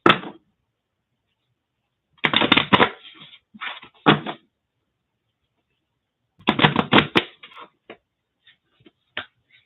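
Oracle cards are shuffled in short, crisp bursts of riffling and flicking, close and loud against near silence, ending with a few isolated card taps.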